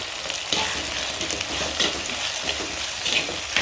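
Green chillies and curry leaves sizzle steadily in a hot pan, a dense continuous frying hiss with occasional stirring scrapes, close and fairly loud throughout with no talk.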